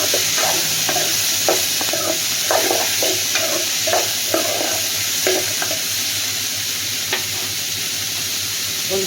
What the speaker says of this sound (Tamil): இப்போ கட் பண்ணி வச்சுருக்கிற புடலங்காயை சேர்த்துக்கலாம். நம்ம நல்லா இப்போ கலந்து விடலாம்.